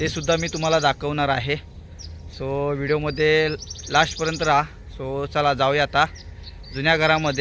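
Morning birds chirping and cooing outdoors in a village setting, faint and steady beneath a person talking throughout.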